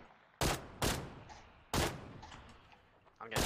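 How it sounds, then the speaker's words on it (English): Four sharp, loud gunshots in the battle royale game PUBG ring out at irregular intervals, each one snapping hard and fading into a short echoing tail over quiet background. "I'm getting shot at from the right side"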